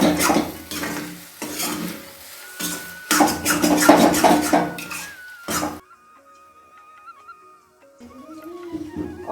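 Potatoes and spices fry in a pan while a utensil stirs and scrapes loudly in repeated close strokes, then the stirring stops and only a faint sizzle remains, no talking.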